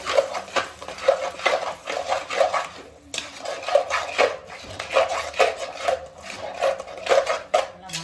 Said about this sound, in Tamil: அதை நம்ம இப்போ எண்ணெயில் போட்டுக்கணும் நல்லா அதை நல்லா வதக்கணும்